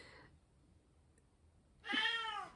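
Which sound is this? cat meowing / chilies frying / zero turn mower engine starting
cat meowing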